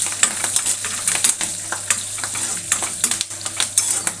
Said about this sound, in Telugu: కరివేపాకు వేగిపోతుంది.